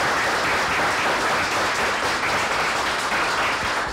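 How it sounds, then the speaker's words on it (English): Loud, sustained applause from a conference audience in the Institute's session hall, a dense wash of many hands clapping continuously without pause. "Could you please also give these guys a big hand of applause because they do amazing work"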